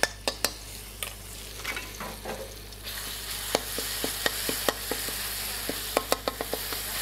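Sambal frying and being stirred in a pan for Indonesian nasi goreng, with a steady sizzle beneath sharp scrapes and clacks of the utensil against the pan recurring throughout, close and alone.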